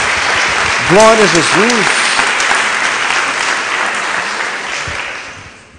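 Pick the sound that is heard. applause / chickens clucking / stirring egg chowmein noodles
applause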